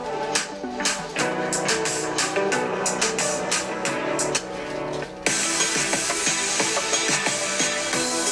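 Music from the GarageBand iPad app played on a Korg microKey Air keyboard, a busy run of synth and drum notes that shifts abruptly into a brighter, denser texture partway through.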